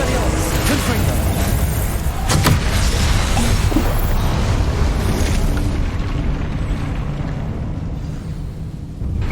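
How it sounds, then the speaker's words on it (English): Repeated Confringo explosion spells in the Hogwarts Legacy video game produce loud booms and bursts within a dense, continuous roar of combat effects, with a voice speaking over the clamor. "I'm using the explosion spell"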